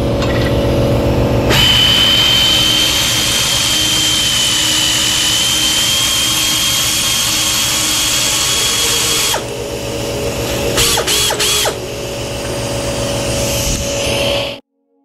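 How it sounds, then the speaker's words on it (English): An air impact wrench in a shop where a 1971 GT6 frame is being taken apart runs continuously with a loud, high whine for several seconds, then drops off, gives a few brief bursts and stops abruptly. "I have a runaway impact wrench here."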